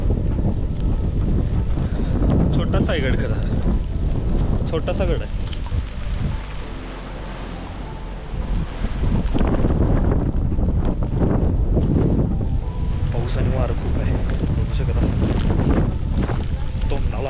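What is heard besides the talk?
strong wind and heavy rain at a hill fort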